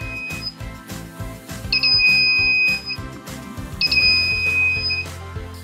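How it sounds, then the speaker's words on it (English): Buzzer and lamp on a WitBlox tilt block circuit in a marble arcade game build, sounding in two sustained high electronic tones of about a second each over a loud steady rhythmic background. "Whenever I just make a movement like this, the lamp and buzzer turns on."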